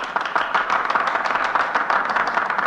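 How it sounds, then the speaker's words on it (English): Senators burst into steady, dense applause in an old radio drama, a continuous wash of many hands clapping at moderate loudness with no speech over it. "I hope the history books will record that applause"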